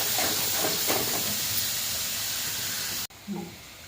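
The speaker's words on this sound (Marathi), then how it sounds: "आपण ते तेलामध्ये चांगलं परतत आहोत" Coconut paste frying in oil for a cauliflower vegetable dish, a steady loud sizzling hiss that cuts off abruptly near the end, with no talking.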